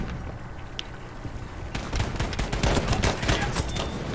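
GMR 43 fire in Battlefield V: after a quiet start, a dense stretch of rapid, loud gunshots in quick bursts, with a brief earlier crack.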